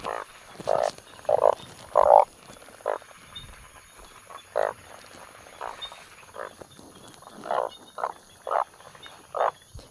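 Frogs croak during rainfall in repeated loud, short bursts in an irregular rhythm, with several calls close together, over a steady background hiss.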